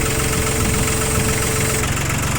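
A three-cylinder 4WD loader tractor engine runs steadily close by, a loud, even diesel chug with a low rhythmic knock and vibration throughout.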